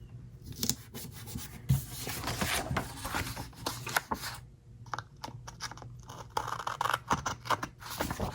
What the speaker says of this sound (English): And then I'll trim that part off.